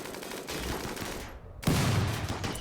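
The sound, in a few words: gunfire in video game RimWorld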